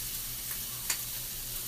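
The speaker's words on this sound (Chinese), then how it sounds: "我们现在呢这边边煎蒜头。" Garlic frying in a pan while stir-fried tofu with green onion and green pepper is prepared: a quiet, steady sizzle runs throughout, with one brief sharper crackle midway.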